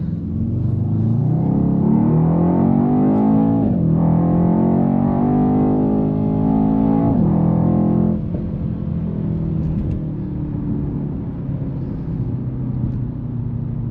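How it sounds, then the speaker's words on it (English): A Mercedes-AMG E63 S V8 revs up with its exhaust in a loud, close series of rising throttle blips, then settles into a lower, steady idle burble, with no talk. "that is a good exhaust sound, the V8"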